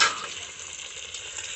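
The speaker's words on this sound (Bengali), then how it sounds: "এই যে আমার মাটন রান্না হচ্ছে" Mutton cooking in a pan on a home stove, giving a steady broadband sizzle with a brighter hiss at the start, continuous and close with no voices.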